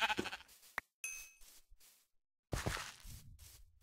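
Sheep in Minecraft bleat several times in short wavering calls, with clicks and footstep-like game sounds in the gaps between them.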